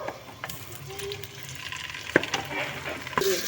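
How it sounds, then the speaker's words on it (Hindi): Poppy seeds dropped into hot oil in a pan for a curry, giving a steady close sizzle with stirring scrapes and a couple of sharp utensil clicks. "ऑयल गर्म हो गया, अब इसमें खशकाश ऐड कर देंगे।"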